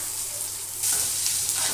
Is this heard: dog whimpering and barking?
no